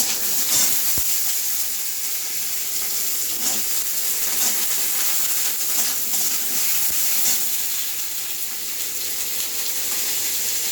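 Vegetables fry in hot mustard oil for a Bengali shukto, a continuous crackling sizzle with occasional scraping stirs and sharp pops, close up and steady with no one talking.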